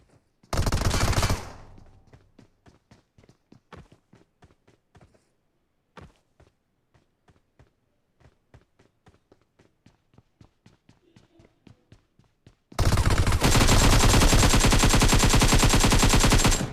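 Bursts of rapid automatic gunfire from a shooting video game, a loud volley at the start and a long sustained burst at the end, with sparse quieter shots and taps in between.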